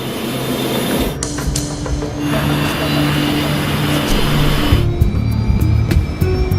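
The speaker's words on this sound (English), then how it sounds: "It's a very noisy engine with a particularly nasty crackle to it." Loud, roaring jet airliner engines with a harsh, nasty crackle, steady and close, rising slightly in intensity as the aircraft powers up for takeoff.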